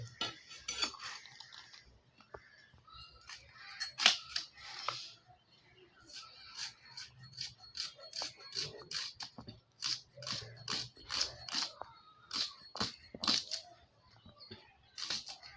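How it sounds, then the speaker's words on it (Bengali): Onions are sliced finely on a boti blade, a series of crisp rhythmic chopping clicks in quick irregular bursts, close and fairly quiet, alone without talk. "এখন আমি পেঁয়াজগুলি সব কেটে নেব জিরি জিরি করে।"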